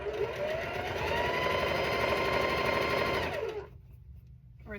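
A sewing machine runs steadily for about three and a half seconds, stitching quilt pieces together for a cat quilt, with a close, continuous whirring buzz that then stops abruptly.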